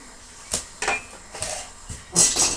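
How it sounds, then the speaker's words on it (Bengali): In a village kitchen, food is set into a bowl and tipped onto a plate, giving a few close, sharp clinks and knocks of dishware with a brighter rattle near the end. "রাখবো বাটিতে, ওটা ঢেলে ফেলছি প্লেটে।"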